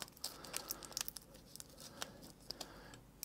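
Balled-up tin foil crinkles and crackles in a series of quick, dry bursts, close and fairly quiet, with sharp crunchy peaks scattered through the stretch.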